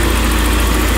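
A BMW E36 car engine idles steadily and loudly up close, a constant low rumble with a faint rhythmic pulse throughout.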